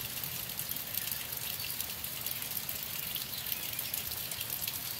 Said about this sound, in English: it is 3:30 and it's still raining.